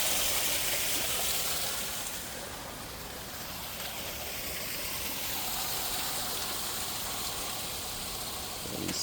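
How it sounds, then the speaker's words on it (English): Water trickling and seeping through the joints of a brick drainage structure at a muddy construction site, a steady broadband rush heard close and continuous with no talk. "There's water coming through the joints in the brick."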